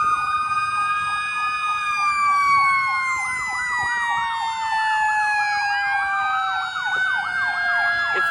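Fire truck siren wailing loud and close as it passes a firehouse, its rising and falling tones overlapping continuously, with faint road noise beneath and no talking.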